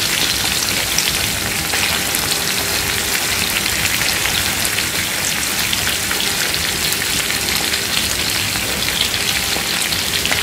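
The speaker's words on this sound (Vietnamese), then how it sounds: "mình chiên để mình lấy cái phần độ giòn của cái vỏ á" Shrimp deep-frying in hot oil for a tamarind-sauce shrimp dish, giving a loud, continuous crackling sizzle with dense popping, steady throughout and heard alone.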